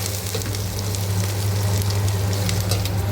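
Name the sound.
vegetables being tempered, sizzling in hot oil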